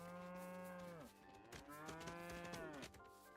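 Two long, loud moos from a cow in the video game Lego Fortnite, one after the other with a brief pause between, close and alone without talk.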